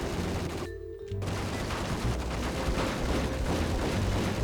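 Sustained, dense gunfire from the Max Payne video game, a continuous loud barrage with no clear gaps between shots apart from a brief dropout near the start.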